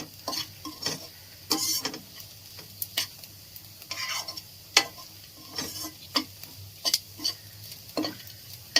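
Onions sizzling in a pan as they fry toward golden brown, with repeated sharp scraping and stirring strokes over a soft, steady frying hiss, fairly close and quiet.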